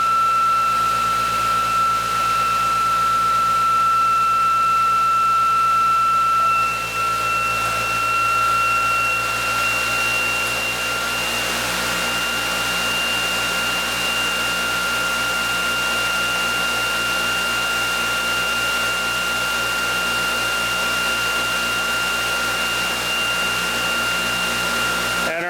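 A ReGen-X quantum motor runs at no-load speed, giving a loud, steady mechanical whir with a constant high whine that shifts slightly partway through and continues without pause.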